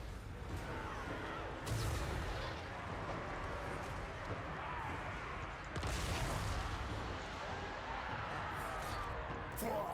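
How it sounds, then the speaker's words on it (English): Chaos Dwarf blunderbusses firing in a video game battle, two loud broadside bursts a few seconds apart over a constant din of combat noise and crowd-like rumble. "Our blunderbuss is starting to shoot on this side."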